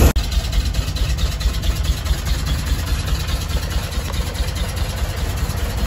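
A 1986 Jeep Grand Wagoneer engine idles steadily after an oil change, a close, even low rumble with a constant mechanical chatter and no voices.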